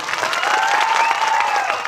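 Congregation clapping during a Hindi church sermon, a steady mid-level patter of many hands filling the hall throughout, with a faint tonal hum running underneath.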